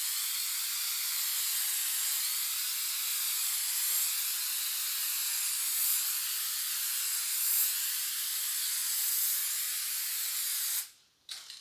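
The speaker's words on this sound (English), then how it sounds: "Spray a light coat." An aerosol can sprays a light coat onto wood, a steady, close hiss that runs continuously for about eleven seconds before cutting off abruptly.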